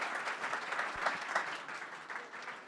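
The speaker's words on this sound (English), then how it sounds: "Round of applause" A small crowd at a startup pitch event at Atlanta Tech Village gives a round of applause, steady and somewhat distant clapping lasting a few seconds with a couple of sharper claps standing out.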